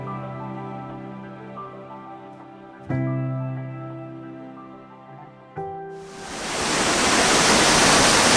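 Loud, roaring Linn Jaw waterfall that swells into a dense, thunderous rush of falling water, preceded by a quieter stretch with a few sharp knocks.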